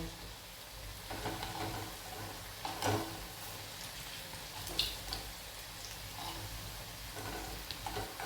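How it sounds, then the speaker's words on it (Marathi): Onion bhaji fry in hot oil with a soft, steady sizzle. Faint spoon taps and stirring clicks sound now and then over the bubbling. "आता आपण ही भजी परतवून घेऊया"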